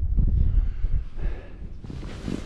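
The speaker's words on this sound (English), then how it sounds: "Oh, it's windy as hell out there" Strong, cold wind at a rainy wild camp in the Lakes buffets the microphone in heavy low rumbling gusts, easing briefly then surging again, with no voices.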